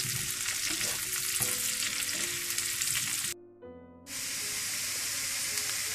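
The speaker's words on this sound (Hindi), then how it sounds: "2 से 3 मिनट तेज आंच पर आपने इसे फ्राई कर लेना है" Steady loud sizzling of potatoes frying in a pan over high heat, with occasional stirring scrapes and a brief dip in the hiss near the end.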